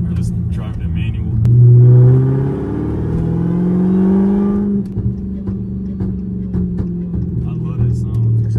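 A Dodge Hellcat with a ported supercharger snout, driven in track mode, revs up loudly with a rising whine, settles into a steady drone, then drops back to a rumbling idle, close and forceful throughout.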